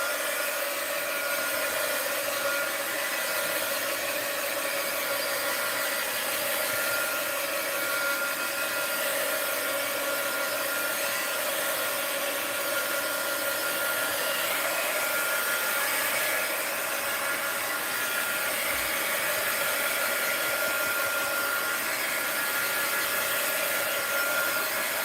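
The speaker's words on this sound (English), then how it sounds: "So before I put anything in there, I'm going to say heat gun alert." A heat gun blows steadily on a mixed media art journal page, a loud continuous whooshing hiss with a motor whine that runs without a break for the whole stretch and no talking.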